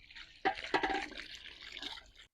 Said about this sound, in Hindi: इसमें गर्म पानी डाल देंगे।